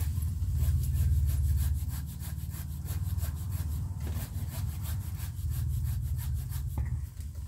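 A hand saw works through a wooden branch with steady back-and-forth strokes, a continuous rasping rhythm that is loud and close, and no voices over it.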